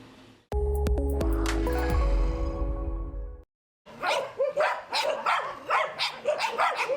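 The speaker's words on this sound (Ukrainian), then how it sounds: "Більше трьох сотень покинутих долею собак проживають тут." A sustained chord of musical tones fades out, then a burst of many dogs barking and yelping together at an animal shelter housing over three hundred dogs, close to medium range, overlapping and continuous.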